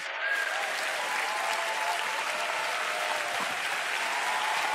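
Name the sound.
audience applause during a sermon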